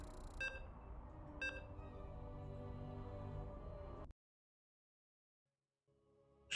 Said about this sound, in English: You can hear the beeps.